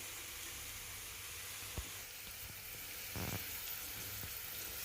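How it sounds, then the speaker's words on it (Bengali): Garlic and chilli sizzle steadily in a hot pan of oil, a soft continuous hiss with a brief clink and a louder crackling burst partway through, with no voices. "এই তো রসুনটা ভাজা ভাজা হয়ে গেছে"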